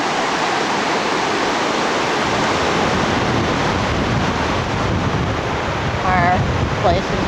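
Mediterranean Sea waves in Israel, a dense continuous wash of surf mixed with wind rumble across the microphone, with faint brief voices near the end.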